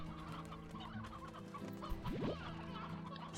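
Chickens in the video game Slime Rancher cluck in a busy, continuous flock, with overlapping clucks over steady game ambience and no talking.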